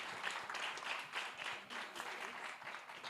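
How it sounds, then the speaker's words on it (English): An audience at a fintech challenge semi-final applauds for a contestant from Togo, a dense, steady wash of clapping that carries on at moderate volume across the whole moment. "A huge round of applause,"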